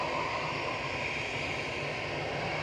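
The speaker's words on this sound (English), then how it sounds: "Departing to Bilbao, this is GEZUS with flight 2005, A320 Classic." Airbus A320 Classic jet departing Manchester Airport for Bilbao, a steady broadband engine roar heard from a distance, brief and continuous with no voices.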